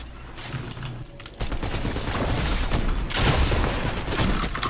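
Gunshots in a video game: a quieter stretch, then from about a second and a half in a dense, loud, close volley of rapid cracks and booms that runs to the end, with no one talking.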